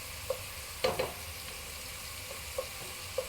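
Tomato coulis base frying in hot oil as it is stirred around a pan, with soft sizzling under a few distinct scraping and stirring clicks spaced across the moment.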